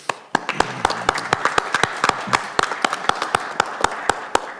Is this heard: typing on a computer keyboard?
no